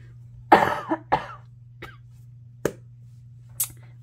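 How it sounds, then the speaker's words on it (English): A few sharp coughs, one loud burst followed by smaller ones, against a quiet steady hum with no talking. "Excuse me, I'm about to cough again."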